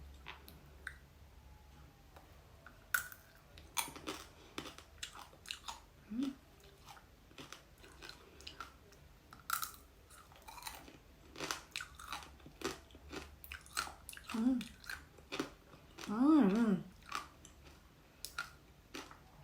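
Blueberry tanghulu, candied fruit with a hard sugar coating, being bitten and chewed up close, giving scattered crisp crunches and clicks that build to a louder cluster of bites near the end, with no talk.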